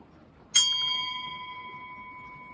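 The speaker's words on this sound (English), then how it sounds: "So that's the church bell." A single strike of a small, tinny church bell from a GWR railway signalling bell set, one clear ding that rings on with a long, slowly fading tone.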